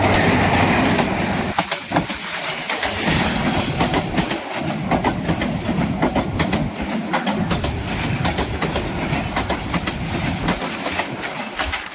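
A train passes close by on a track near a bridge, its loud continuous roar and rapid clickety-clack of wheels over rail joints filling the whole stretch with no pause.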